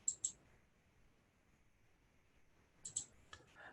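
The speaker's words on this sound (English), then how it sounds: "So I'm going to click on the Add Text button." Crisp computer mouse clicks come in quick pairs, two at the start and another pair near the end, close and clean against a quiet background, with a few softer taps after.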